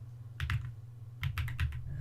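Quick bursts of typing on a new speed-style computer keyboard come in two short clusters of crisp, close key clicks separated by a brief pause, over a steady low background hum.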